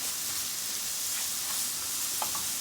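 Garlic sizzling steadily in a hot pan while being stirred, a continuous broadband frying hiss with a few faint scrapes and clicks near the end.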